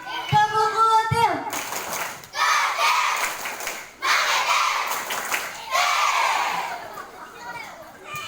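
Children at a primary school scout activity clap together in a patterned rhythm, several bursts separated by short pauses, loud and close, with young voices shouting between.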